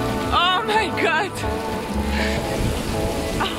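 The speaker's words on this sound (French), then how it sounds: "Vous voulez voir une pluie tropicale?" Tropical rain pours steadily in the background, a constant hiss running beneath a voice that talks and exclaims over it close by.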